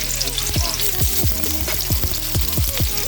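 Onions sizzling as they fry in olive oil in a pan, a steady bright crackling hiss with repeated soft stirring or spatula scrapes at a regular pace, close up.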